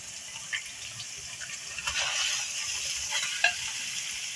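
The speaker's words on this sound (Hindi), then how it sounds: "2 से 3 मिनट फ्राई करने के बाद अब इसके अंदर जितना भी हमारा कीमा पड़ा है वो शामिल कर दीजिए" Minced meat (keema) sizzles and fries in a pan while being stirred, a soft continuous hiss with occasional small scraping clicks from the spoon.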